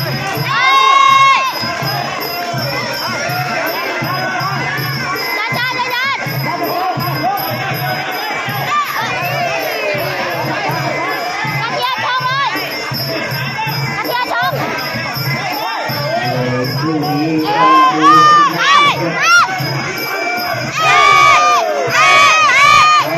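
Muay Thai boxing fans cheer and shout throughout a bout, a loud, dense crowd roar with rising surges and whistling, while an announcer talks over it.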